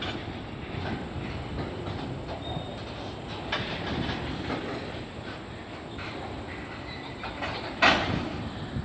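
A CN freight train rolls past on the rails with a steady, loud rumble and clickety-clack of wagons, alone with no talk.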